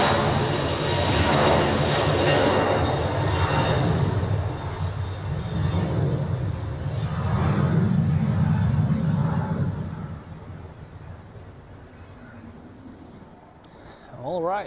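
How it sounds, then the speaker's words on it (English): A Boeing 777 arriving from Miami on final approach to runway 14 at Zurich Airport, a loud sustained jet engine roar that swells and fades across the clip, with a voice talking over it. "Here it is, the 777 from Miami."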